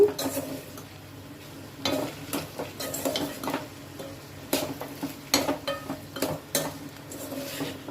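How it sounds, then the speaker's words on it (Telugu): Taro pieces tossed with salt and chili powder in a pan, heard as soft scraping stir strokes with light clinks of utensil on metal over a faint sizzle. "ఉప్పు కారం వేసినాక బాగా ఇలా కలుపుదాము"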